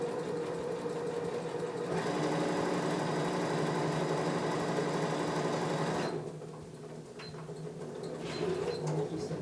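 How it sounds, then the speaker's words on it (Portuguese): A sewing machine runs steadily as fabric is stitched for a children's hair band. A continuous mechanical whir lasts several seconds, then slows and softens before picking up again, close and alone. "E agora eu venho alinhando o tecido aqui, ó. E vou costurar."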